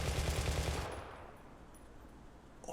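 A short burst of rapid machine-gun fire from an aircraft in War Thunder rattles loudly for under a second, then cuts off into quiet engine hum.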